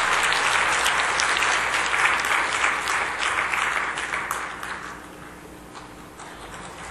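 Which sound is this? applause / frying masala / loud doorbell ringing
applause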